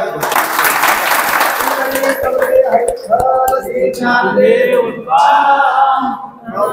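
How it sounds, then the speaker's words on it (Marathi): An audience at a village gathering claps together in a loud, sustained burst of applause that thins into scattered clapping, with a voice and crowd noise mixed in toward the end. "टाळ्या वाजवा या"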